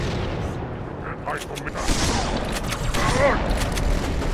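Booming explosions and heavy weapon fire from a Halo 2 battle in the Metropolis level, a rocket launcher blast among them, rolling continuously and loudly under game voices.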